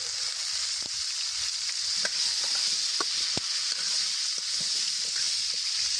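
Pumpkin and green chillies fry in a pan for a fish-head pumpkin dish, giving a steady close sizzle broken by scattered scraping and clinking stirring strokes, with no talking.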